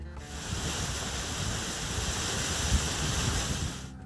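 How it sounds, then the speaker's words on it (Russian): Continuous rushing water from a small waterfall and mountain stream in the Glendalough glacial valley, Wicklow, Ireland: a steady broad roar with no voices and little variation. "поднимались к мелкому водопаду, возле которого стоит задержаться и послушать шум воды"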